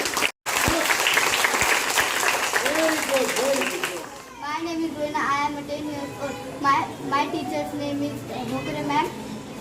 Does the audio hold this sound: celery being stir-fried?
no